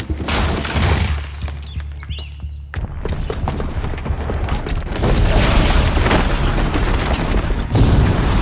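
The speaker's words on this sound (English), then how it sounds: "the booby trap on the bomb downstairs is gonna get set off" A bomb goes off in Horizon Zero Dawn, a heavy loud boom with crackling debris and rumble, followed by sustained roaring blast noise and rolling aftershocks.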